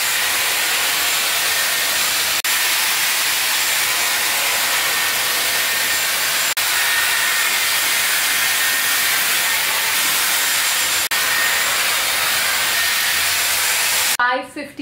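A Dyson Airwrap hair styler blows a loud, steady rush of air for nearly fifteen seconds while smoothing hair, with a few soft clicks and a brief rustle right at the end.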